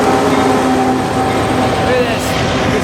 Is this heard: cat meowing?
no